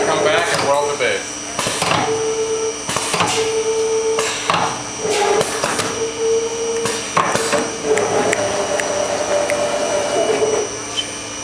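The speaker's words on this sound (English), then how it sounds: "It's going to come back and weld the base." An automated robotic welder works along a bookcase base in a factory, giving a steady loud buzzing hum with sharp intermittent bangs and clanks, machinery drone throughout and a voice heard over it.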